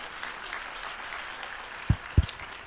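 Scattered applause from a listening audience at a Jain religious gathering, a steady diffuse patter of claps running throughout, with two louder sharp thumps near the end.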